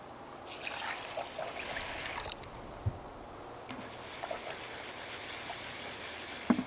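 Water sloshes and trickles softly as sushi rice is rinsed, a quiet close swishing with a few light knocks against the bowl.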